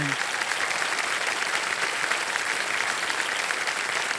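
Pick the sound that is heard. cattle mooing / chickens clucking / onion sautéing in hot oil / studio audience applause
studio audience applause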